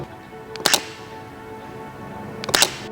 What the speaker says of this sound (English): that's the sound of the mechanical shutter